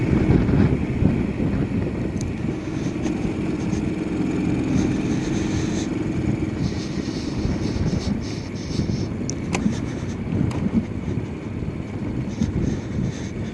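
On a test ride, a Honda C90 motorcycle fitted with a swapped-in Lifan 110 engine gives a steady engine drone, heavily masked by constant wind buffeting on the microphone, with a few faint clicks.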